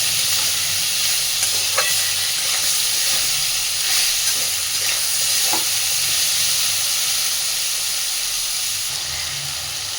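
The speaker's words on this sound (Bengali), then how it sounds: "আলু আর বেগুনটাকে আমি খানিকটা ভেজে নিয়েছি।" Potatoes and eggplant frying in a pan give a steady, loud sizzle and hiss throughout, with occasional clinks of stirring and no talking.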